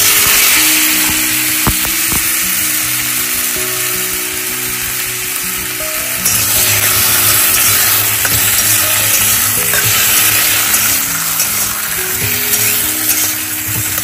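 Food fries in a hot iron kadai with a continuous, close sizzle. Occasional stirring scrapes and metallic clinks sound alongside it, with no talking.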